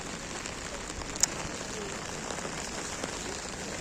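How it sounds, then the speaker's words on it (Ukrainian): Heavy rain pours down over an outdoor market in Ukraine, a dense, even hiss of drops hitting surfaces, steady and close with no talking. "А він ще більший став дощ."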